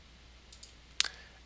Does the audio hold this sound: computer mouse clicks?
yes